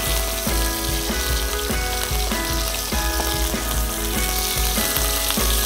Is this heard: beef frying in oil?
yes